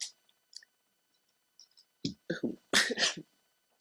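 A sharp sneeze bursts out in a quick cluster of loud nasal blasts near the end, after faint clicks and small mouth noises.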